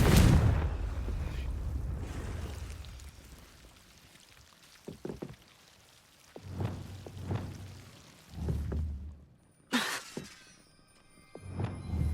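Confringo, an explosive spell in the video game Hogwarts Legacy, fires in a series of booming fiery blasts. A heavy roar at the start is followed by several separate bursts and crackling impacts spread across the clip.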